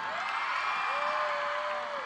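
An audience at a Children's Day celebration applauds for actress Raveena Tandon, a dense steady wash of clapping and cheering with a couple of whistles heard briefly throughout.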